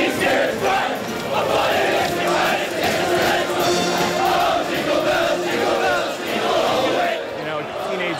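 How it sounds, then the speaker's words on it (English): Rowdy crowd of school boys at a prep cheering session, a dense, loud, continuous roar of shouting and chanting voices filling the space throughout. "The prep cheering session is about to explode."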